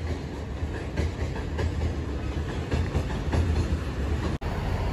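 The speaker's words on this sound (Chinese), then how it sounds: "火车通过这个桥了，绿皮车" A long, green-painted passenger train crosses a river bridge in Guangyuan. Its wheels give a continuous rumbling roll with faint rhythmic clickety-clack at a moderate distance, and no voices are heard.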